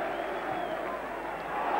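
Warm applause from a football stadium crowd at a Premier League match between Chelsea and Everton, a steady broad wash of clapping and murmur lasting throughout, fairly distant and even.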